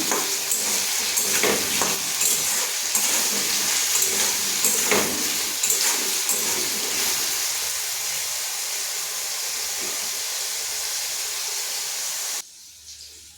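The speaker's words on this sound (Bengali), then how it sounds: "এই যে আলুটাতে পরিমাণ মতো নুন দিয়ে দিচ্ছি, আবারও ভেজে নেব।" Potatoes frying in a pan after being salted, giving a steady close sizzle with occasional stirring scrapes and clicks, dropping off abruptly near the end.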